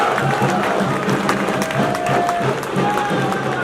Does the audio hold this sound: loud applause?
yes